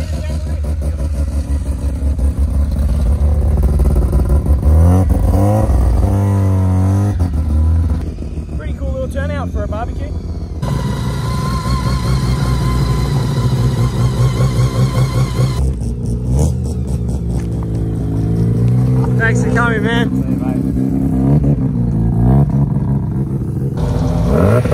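A rotary-engined car revs repeatedly at a barbecue car meet, loud and close, with the engine rising and falling while people talk over it throughout.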